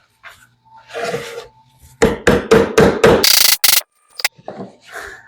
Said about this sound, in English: And grab a hammer, kind of.